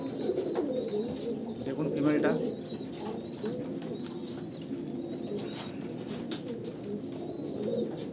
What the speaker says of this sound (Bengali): আলাদা লাইনে কালাঙ্কা পায়রা।